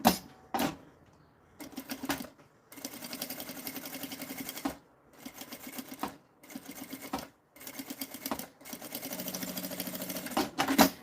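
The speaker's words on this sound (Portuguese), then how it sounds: "E aqui eu vou passar um pesponto, uma costurinha de meio pé de máquina." A sewing machine runs a half-foot topstitch seam on fabric for a teacher's pencil case, in several loud bursts of steady stitching broken by short pauses, with no voices.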